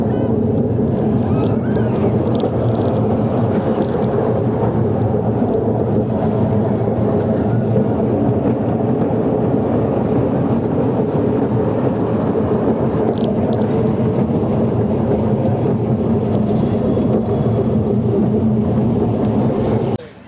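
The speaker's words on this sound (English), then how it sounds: "I just had my ride there on the Caterpillar coaster" The Caterpillar roller coaster at Paultons Park makes a continuous loud rumbling roar of track and rushing wind for about twenty seconds, heavy and steady from the rider's seat before cutting off abruptly.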